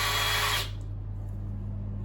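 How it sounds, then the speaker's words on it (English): A power drill bores into porcelain tile with a loud, bright whine for about half a second, then cuts off abruptly, leaving only a low steady hum. "You start to level your drill off, and take your time, it's not a rush drill."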